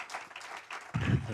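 A church congregation breaks into applause acclaiming the Lord, the clapping bursting in near the end right after a brief spoken voice.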